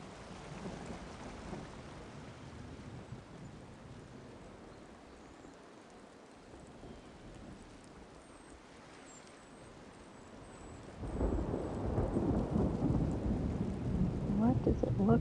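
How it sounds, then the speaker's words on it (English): Thunderstorm with steady heavy rain in the Wylde Flowers video game, a continuous wash that swells noticeably louder and denser near the end, with rumbling thunder underneath. "What does it look like out here in a storm?"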